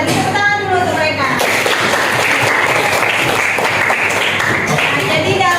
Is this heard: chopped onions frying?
no